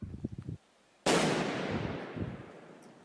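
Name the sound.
grenade explosion near a bunker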